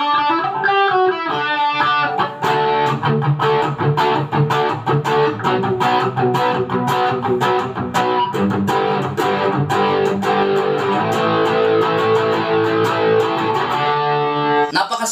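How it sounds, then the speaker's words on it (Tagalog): An electric guitar played through a Joyo American Sound pedal with distortion rings out loud and close, with sustained distorted chords broken by sharp rhythmic strums and muted chops. "gagamit tayo nitong Joyo American Sound na gamit tayo ng distortion"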